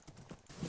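A horse's hooves clip-clop in a creative-mode building video game: a brief, faint run of soft rhythmic hoof steps.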